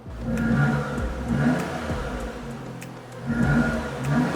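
A 2023 Daihatsu Copen Robe's 660cc turbo exhaust putters and rises in repeated short revs, swelling and easing every second or so, close by with no talking.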